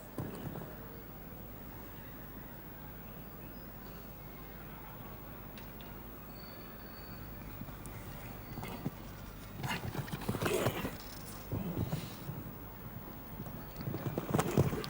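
Horse hooves clopping on the turf of a show jumping course at the FEI European Jumping Championships in Donaueschingen, Germany, steady under crowd ambience and growing louder and closer toward the end.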